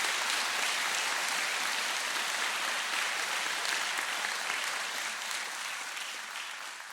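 An audience gives a long, steady round of applause for fire rescue department personnel at a ceremony swearing in a new San Diego fire chief, dense and even throughout and easing slightly toward the end.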